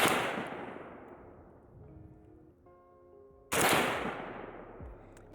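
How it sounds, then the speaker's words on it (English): A Pioneer Arms 556 AK sporter underfolder rifle fires steel-case Tula rounds, two loud, sharp reports each followed by a ringing decay, one at the start and one midway, outdoors with no talk. "just documenting the very first round ever through this gun"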